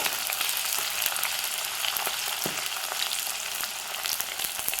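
Crushed onions fry in hot oil for a Kerala fish curry, a dense, even sizzle close up with faint scrapes of stirring, no talking.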